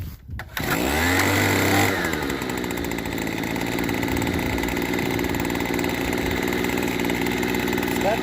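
A Keen drywasher's small engine catches after a brief start and settles into a steady, loud, close idle with a buzzy mechanical drone that runs without a break.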